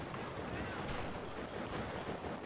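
Gunfire in Battlefield 4 rattles steadily at a low, somewhat distant level, forming a constant crackling wash with no clear breaks.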